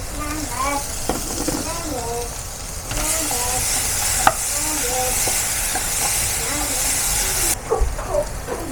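A spoon stirs an avocado chaat mixture of boiled pieces, salt, blended onion and tomato in a bowl, giving soft, irregular scraping and mixing sounds close by under steady talking.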